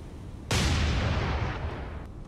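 A heavy naval gun salvo from the cruiser Marblehead in the War on the Sea game, a sudden loud blast followed by a long rumbling roar that slowly fades.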